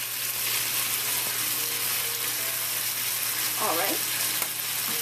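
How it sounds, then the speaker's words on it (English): Vietnamese red fried rice frying in a pan, a loud, steady sizzle close up with stirring scrapes, and a brief spoken word partway through. "we're going to let this fry until kind of all the liquid has dissolved from the base"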